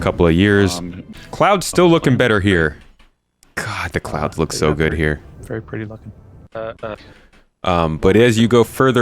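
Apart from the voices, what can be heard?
No everyday noise stands out behind the speech.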